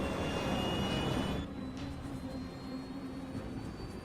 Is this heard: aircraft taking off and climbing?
yes